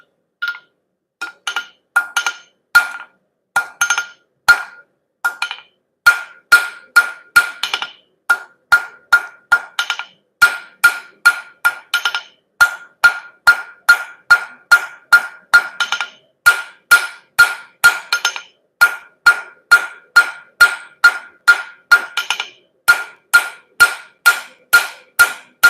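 A hammer draws out hot spring-steel wrenches being forged into bottle openers, striking in a steady, rapid rhythm with a bright metallic ring on each blow. The blows come close and loud for the whole stretch.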